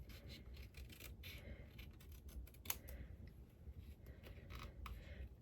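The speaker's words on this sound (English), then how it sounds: "Now I'm going to use these scissors. I think they're going to do better. These are sharper." Sharp scissors snip paper for a patriotic scrapbook page, a faint series of quiet close cuts and rustles with one brief sharper click, no talk.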